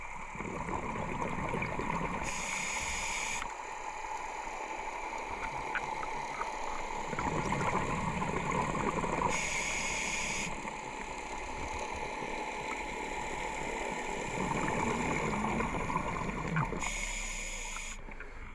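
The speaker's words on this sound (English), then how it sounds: "That noise of the boat you can hear" A droning boat engine heard underwater off Guernsey hums through the water, steady and muffled, with periodic bursts of bubbling hiss from a scallop diver's breathing.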